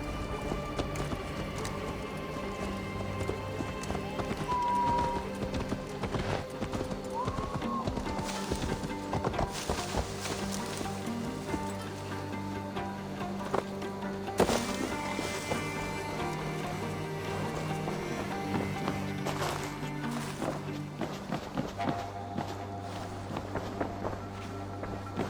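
Rhythmic clip-clop of a horse's hooves at a steady run in the video game Assassin's Creed Valhalla, with occasional whinnies over a busy, music-like backdrop.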